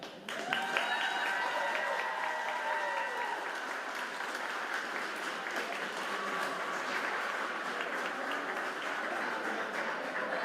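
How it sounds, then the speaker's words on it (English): Graduation audience at a high school ceremony applauding, a long even stretch of many hands clapping in a large hall, steady and moderately loud throughout. "How about another round of applause?"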